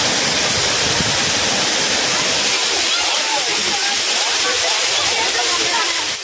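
Courtallam main waterfall in Tamil Nadu roars loud and close, a dense unbroken rush of falling water filling the whole scene.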